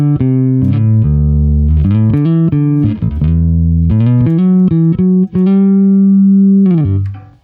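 A Fender American Vintage II 1954 Precision Bass on its brightest tone setting plays a loud run of clear, sustained bass notes, with steady plucked attacks and a final held note fading out.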